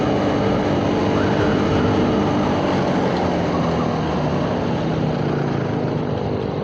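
A Suzuki Satria FU motorcycle engine runs at high revs in third gear, a loud continuous buzzing drone recorded up close while riding, with wind noise mixed in and no break.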